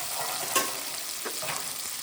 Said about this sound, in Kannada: ಲೈಟ್ ಬ್ರೌನಿಶ್ ಫ್ರೈ ಮಾಡ್ಕೊಬೇಕು.